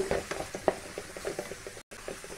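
Two medium onions sautéing in a pan for Tamil egg kulambu, a steady close sizzle with soft rhythmic stirring taps and scrapes.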